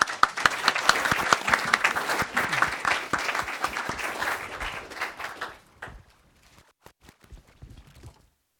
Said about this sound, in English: I actually wanted to give a round of applause for all the speakers we had today.